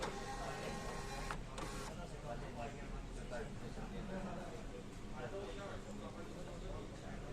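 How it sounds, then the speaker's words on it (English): A LENVII 370B barcode printer runs a label print, giving a steady mechanical whir with a faint rhythmic ticking throughout, preceded by a brief electronic tone and a short clack near the start. "Printer print effect."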